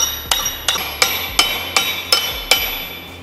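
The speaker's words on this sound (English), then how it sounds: "me pressing the bearing on with a nylon hammer" A nylon-faced hammer tapping a bearing onto a differential, seven sharp, evenly spaced ringing strikes close up with metallic decay and no talking.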